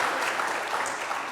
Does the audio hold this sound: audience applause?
yes